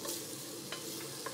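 Onions in oil over low heat give a soft, even sizzle, broken by a few light stirring scrapes. The sound is fairly faint.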